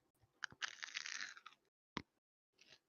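Crunchy food being chewed close to the mic, a burst of loud crisp crunches followed by two short separate bites after pauses, alone without talk.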